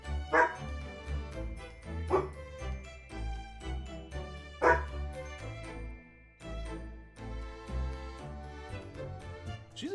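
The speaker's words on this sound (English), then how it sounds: "She's probably barking at somebody who's walking like across the street, a block down." A pet dog barks indoors in a few short, sharp bursts spaced a couple of seconds apart, heard at a middle distance beneath steady, loud game music.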